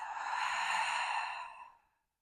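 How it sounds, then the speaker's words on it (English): A single long, soft breath is released through the mouth during a yoga session, a smooth airy exhale lasting nearly two seconds before fading into silence. "Exhale, release through the mouth."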